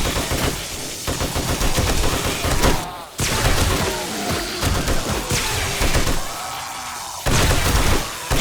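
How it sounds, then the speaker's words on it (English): An M60 machine gun fires from the hip in 7 Days to Die Alpha 18, loud sustained bursts of rapid automatic gunfire with short pauses between volleys. "Shooting the M60 from the hip"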